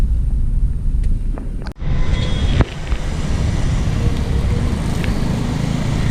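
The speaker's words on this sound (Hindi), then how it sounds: "एंड अभी मैं ट्रैफिक में अटक गया हूँ" Steady traffic rumble surrounds an MG Gloster SUV stuck in a jam on a bridge road, a continuous low roar of engines with wind buffeting the microphone and no talk.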